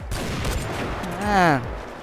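Sniper rifle fire in the online shooter CrossFire, with a few sharp cracks early on over steady game noise, followed by a brief rising and falling voice near the end.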